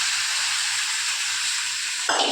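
Chicken pieces going into hot oil for biryani, giving a loud, dense, continuous hiss and sizzle close by that flares up sharply near the end, with no voices.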